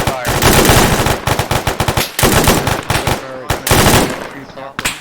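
An Arma 3 machine gun fires long belt-fed bursts, loud and close, at a rapid steady rate with brief pauses, while a voice talks over the firing.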